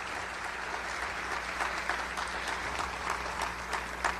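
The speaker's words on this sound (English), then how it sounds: "give her some applause" A ballroom crowd at the Indiana Republican Party spring dinner applauds in a full, sustained patter of many hands, steady and even, with a few sharper claps popping out near the end.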